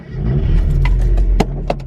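A Honda Civic with its muffler deleted runs loud and close, its deep exhaust drone holding steady with a few sharp revving blips near the end, no voices over it.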